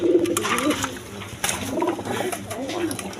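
Two male racing pigeons coo close by in repeated soft, throaty rolling calls, several bouts rising and falling, with a voice talking over them.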